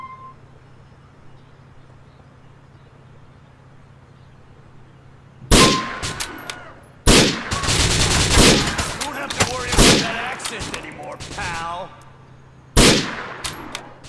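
Gunfire in Grand Theft Auto IV: a sudden loud volley of game gunshots and metallic clangs, with two sharp separate shots and a dense burst in between, over a low steady hum.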